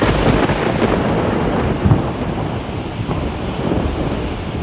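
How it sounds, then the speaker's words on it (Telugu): Torrential rain pours during a thunderstorm over Medak and Kamareddy districts, a dense steady roar of heavy rainfall with low thunder rumbles rolling underneath, loud and continuous throughout with no voices. "మెదక్, కామారెడ్డి జిల్లాలో కుండపోత వర్షం పడుతోంది."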